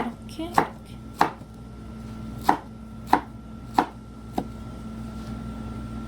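A knife chops enoki mushrooms on a cutting board while a mung bean and enoki porridge is being prepared, giving six sharp, close, evenly spaced thuds against a low steady background hum.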